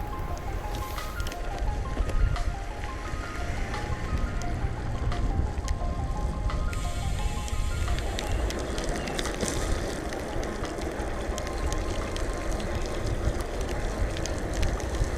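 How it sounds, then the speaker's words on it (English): Rain falls during a bicycle tour through Central Europe, a dense, continuous patter and hiss that stays fairly loud throughout, with rougher wind-like rumble in the first half and no talking. "It's raining again!"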